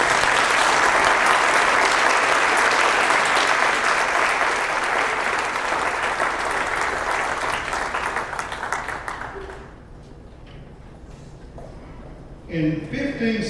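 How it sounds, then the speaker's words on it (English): Audience applause fills a high school spring concert hall, loud sustained clapping for about nine seconds before fading into quieter scattered claps, with a brief burst of sound near the end. "Let's give these a big round of applause."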